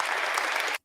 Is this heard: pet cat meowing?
no